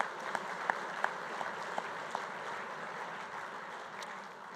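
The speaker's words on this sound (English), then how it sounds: "take a minute to give a round of applause to the wait staff" Audience at a business luncheon applauding the wait staff, a soft, steady ripple of clapping from a room of people, with a few sharper individual claps standing out near the start.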